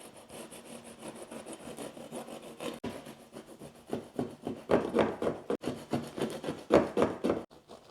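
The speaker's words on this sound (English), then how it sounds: "let me grab a bread knife, and I guess I'm just gonna start cutting here" A bread knife saws through a soft, fluffy loaf baked in an air fryer, with rhythmic rasping strokes that start quiet and grow louder and quicker, heard close up with no talking.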